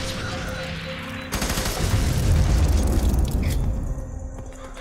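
Explosions of kamikaze soldiers in the video game F.E.A.R. 3, a loud rumbling blast over sustained gunfire that swells and then fades slowly.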